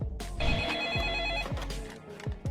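Telephone ringing while calling the electricity company, a warbling electronic ring tone in a repeating pattern with a regular low thump in each cycle, moderately loud and close.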